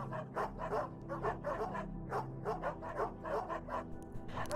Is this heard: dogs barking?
yes